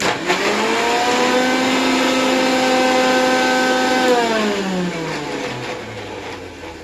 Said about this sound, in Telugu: ఈ విధముగా మిక్సీని మెత్తగా పట్టుకోవాలి.